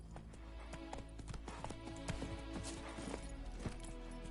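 Roach the horse from The Witcher game galloping, with steady rhythmic hoofbeats running close and continuous over a low ambient game soundscape.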